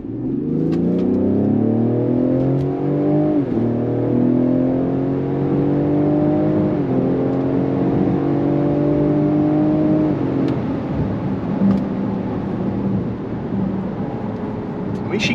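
Ford Explorer ST engine pulling steadily through gears on a test drive at around 20 mph, with rising whine and tone steps at each shift, continuous and close from inside the cabin.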